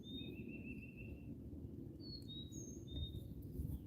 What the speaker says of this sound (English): Birds do make some beautiful sounds.